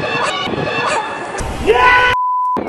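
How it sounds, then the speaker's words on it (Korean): Children yell and shriek from above amid a noisy crowd on a drama filming set, in loud overlapping bursts, while a steady electronic tone sounds briefly. "방해하는 초딩들 겁나 위에서 소리 지르거든요"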